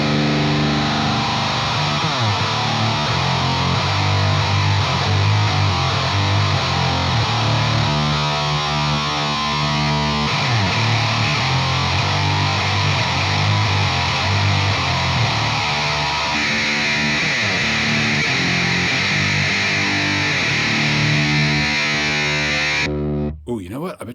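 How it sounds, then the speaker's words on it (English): Electric guitar through a GCI Jugendtief pedal set between fuzz and overdrive, heavily distorted with a thick fuzzy tone, chords ringing and sustaining loudly for over twenty seconds before cutting off abruptly. "So usually between fuzz and overdrive is the move on this pedal"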